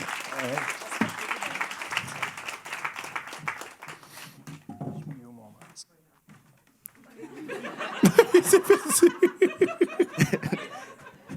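At a live comedy show, the audience breaks into clapping mixed with laughter, then falls briefly quiet; a second wave of claps and chuckles returns as a performer speaks over it.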